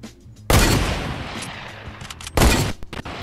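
Gunfire in Fortnite Battle Royale cracks out in two loud, close bursts about two seconds apart. The second burst is shorter and is followed by a few scattered pops.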